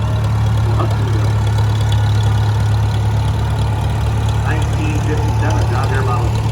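A 1957 John Deere Model 520 antique tractor rumbles past in a flywheelers parade with a steady low engine drone, mixed with other idling engines and background crowd noise.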